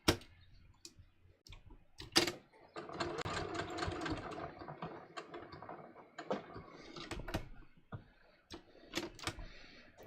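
Sewing machine running a double row of top stitching on a welt pocket, a short close burst of rapid mechanical clatter framed by clicks and handling knocks.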